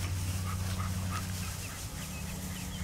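Dogs whimper and yip excitedly after finding mink scent, thin high whines and short cries over a steady low rumble, close by with outdoor background noise.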